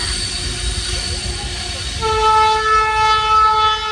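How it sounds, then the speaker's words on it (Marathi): A train rumbles past close by on the Diva–Vasai line with broad steady noise, and sustained horn-like tones swell in halfway through, growing louder. "आता इथून ट्रेन जाते"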